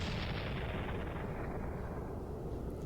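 A cannon booms as a town tornado warning, a dense, sustained roar of low rumble that fills the whole stretch loudly and slowly fades in its upper range.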